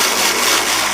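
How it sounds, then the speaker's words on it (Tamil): Mixer grinder whirring as it blends waffle batter made with water and country sugar, a steady loud motor drone filling the whole second with no talk. "மிக்ஸியில் ஒரு போடு போட்டுடலாமா?"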